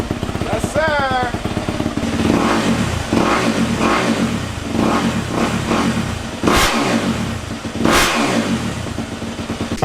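A Yamaha YZ250F dirt bike engine runs loud and close, warmed up and revving repeatedly in rising and falling bursts over a rough idle.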